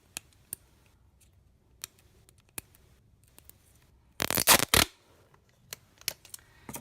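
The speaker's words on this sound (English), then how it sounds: "Now I'm going to take a bit of sellotape." Sellotape pulled off the roll and torn, a short loud rasping rip lasting under a second, set among sparse faint clicks and taps of paper being handled in a quiet room.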